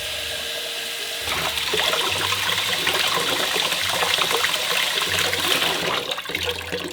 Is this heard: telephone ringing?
no